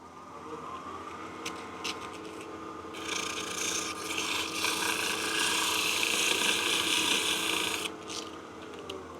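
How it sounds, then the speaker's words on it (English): A wooden salt and pepper mill knob being hand sanded: a continuous close rasping rub that grows louder and fuller midway, then eases off, with no talking. "let's go ahead and sand this out just a little bit more"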